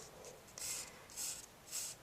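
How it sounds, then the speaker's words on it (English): A lighter pencil scratches close hatching lines on paper, a faint soft rhythmic scraping with about four quiet strokes in quick succession. "I'm still going to use my lighter pencil"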